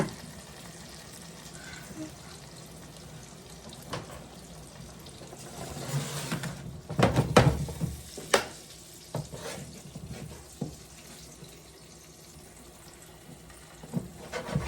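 Gluten-free ravioli frying in a hot pan, a steady soft sizzle broken midway by a burst of scraping, clattering flips and splashy spatters, then settling back to a quieter fry with occasional taps.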